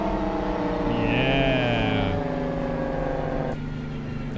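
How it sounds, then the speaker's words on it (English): A truck engine brake in American Truck Simulator, a loud low rumbling drone with a rising whine partway through that drops off, under a brief spoken word. "Let's listen to the engine brake."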